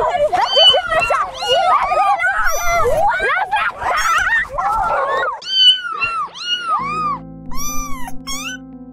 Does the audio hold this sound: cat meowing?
yes